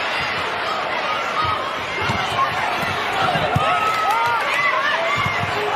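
A home arena crowd roars steadily through a 2024 NCAA volleyball semifinal between Louisville and Pittsburgh, with ball thumps and squeaks poking through and a commentator talking over it.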